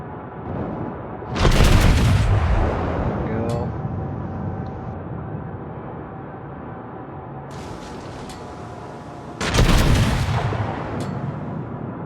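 Big guns of a Tier 7 US battleship, the Colorado, fire in World of Warships in two loud, booming salvos several seconds apart, each with a rolling rumble. Other game sounds continue between them, and someone talks quietly under it.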